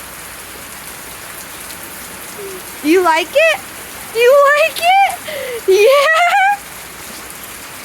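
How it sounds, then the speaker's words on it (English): Steady rain falls throughout as a continuous hiss, with a voice talking over it in short bursts. "You sure like this rain"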